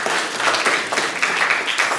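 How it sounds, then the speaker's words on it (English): A church congregation applauds together, a dense, steady crackle of many hands clapping that fills the room for the whole stretch, with no speech over it. "Everyone give a round of applause for Elena."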